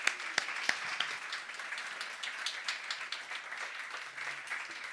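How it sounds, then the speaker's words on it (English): Steady applause from an audience at a comedy talk evening in a church venue, many hands clapping continuously for the full stretch with a few sharper claps standing out near the start. "can we give another round of applause to Paul and also to the staff here at Hollywood Revolution?"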